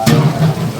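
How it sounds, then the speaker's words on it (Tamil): A large pot of boiling biryani, a 30 kg batch, stirred with a ladle: a brief scrape and splash at the start over a steady bubbling simmer and low rumble, close and fairly loud. "இப்போ வந்து செலவு கொதி வந்துருச்சு, வாங்க கிண்டிக்கலாம்"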